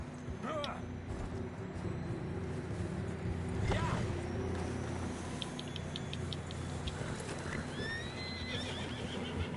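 Horses in a Wild West video game whinny and snort while hooves clip-clop steadily underneath, with a soft ambient music bed and occasional faint voices in the background.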